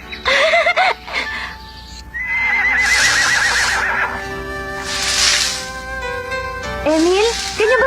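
A horse whinnies loudly several times in rising, wavering calls, with other horse sounds and some background noise in a stable setting where horses are being fed.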